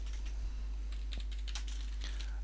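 Keys clatter on a computer keyboard as a networking command is entered for a Brocade ICX switch, a quick run of light taps with a couple of sharper clicks over a steady low hum, no voices.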